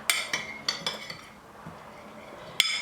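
Sauce mixed in a bowl with a utensil makes a few quick, bright clinks and taps against the bowl, spaced apart, with a quiet stretch in between and a final sharp clink.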